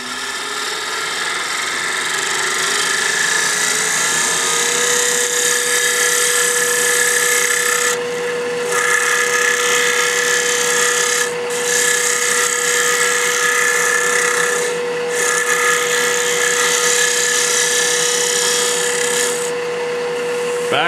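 A slightly negative rake scraper works back and forth across spinning wood on a small business card holder, a steady close rasping hiss with a faint tone running under it and brief dips in between.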